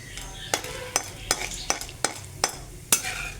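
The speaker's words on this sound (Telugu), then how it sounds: "ఇవి బ్రౌనిష్ కలర్ వచ్చిన తర్వాత మనం ఇప్పుడు కరివేపాకు వేసేసుకుందాం" Curry leaves dropped into a sizzling tempering of mustard seeds, chana dal, urad dal, dried red chillies and cumin, a steady frying hiss punctuated by about eight sharp clinks of a spoon against the pan.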